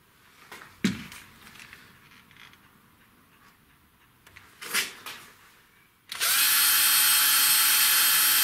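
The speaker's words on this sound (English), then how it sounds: "So I'm going to drill that out a little bit deeper now." A few brief clicks and scrapes, then a power drill starts abruptly and runs loud and steady with a high whine until the end, drilling into a Tri-ang model railway diamond crossing.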